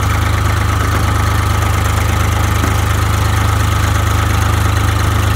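An engine runs steadily after being jump started with ether, a loud, constant low idle with a rough, knocking throb and no break, close by with no talking.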